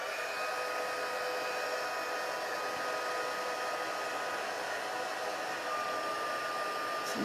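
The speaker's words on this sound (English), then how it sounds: "on the highest setting of the heat tool, and here it goes" A heat tool for embossing runs on its highest setting, giving a steady, even fan whir and airy hiss close by, with no talk.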